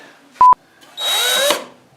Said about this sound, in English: I gotta drill out the hole bigger